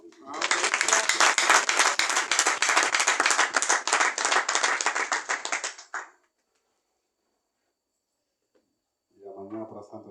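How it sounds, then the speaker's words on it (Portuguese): Sustained applause and clapping fill a church congregation for about six seconds, dense and loud, then stop abruptly. After a silent pause, a voice begins speaking. "Mais uma salva de palmas para Jesus."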